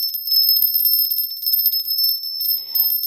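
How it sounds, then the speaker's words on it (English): A small bell rings steadily and brightly close up, a continuous rapid tinkling with no pauses, alone and fairly loud for about three seconds. "Did you know that bells get rid of demons?"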